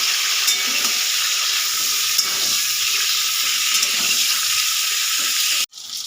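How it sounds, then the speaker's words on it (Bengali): Eggplant slices fry in a pan with a loud, steady sizzling hiss that continues almost unbroken and cuts off abruptly near the end. "দেখুন বেগুনটা আমার লাল লাল করে ভাজা হয়ে গেছে"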